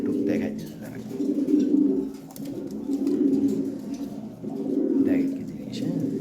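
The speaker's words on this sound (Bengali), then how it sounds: "এটা খুব ভালো বিদেশি ব্লাড লাইনের কবুতর এটা" Pigeons of a foreign bloodline, including a red checker bird, coo in low, throaty swells that rise and fall across the stretch, a steady close murmur with brief chirps.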